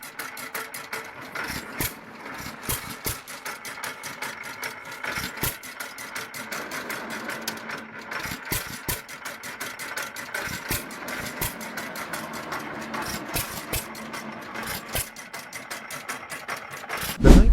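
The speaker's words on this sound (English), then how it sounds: "Hearing the slow, rhythmic beat of the Threshing engine brings a sense of history to life" An antique threshing engine thumps in a slow, steady rhythmic beat, a dense run of sharp mechanical knocks over a low running drone, fairly close and continuous.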